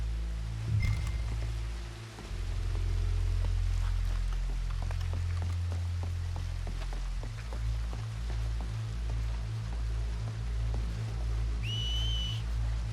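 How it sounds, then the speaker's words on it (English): A short whistled tone near the end, plus a brief fainter one early on, from a character whistling to lure enemies out in the video game Red Dead Redemption II, over steady rain-like ambience. "Make a noise. Whistle or something."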